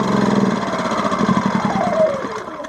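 A small petrol generator engine, an Impax IM1900SIG, idles nearby with a steady rhythmic chugging that drifts slightly in pitch, running alone without talk.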